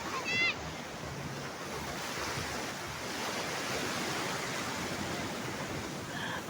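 Big sea waves surging in a continuous loud wash of surf, mixed with wind buffeting the microphone, with a brief short sound at the start.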